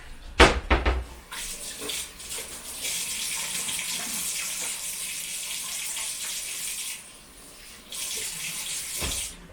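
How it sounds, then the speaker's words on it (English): A kitchen tap runs steadily as hands are washed for a blueberry muffin recipe, a close, continuous rush of water that briefly dips before resuming, with a few clatters at the start and end. "just take a moment and just wash your hands"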